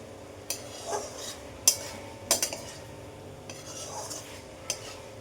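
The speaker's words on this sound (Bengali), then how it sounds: "এটার মধ্যে এবার একটু ভাজা ভাজা করে একটু নেড়ে চেড়ে মশলার সাথে ডিমটা নেড়ে চেড়ে" Fish roe being stirred with spices in a pan for a Bengali pona fish egg chorchori, with a utensil scraping and clinking against the metal at irregular intervals over a faint background hum.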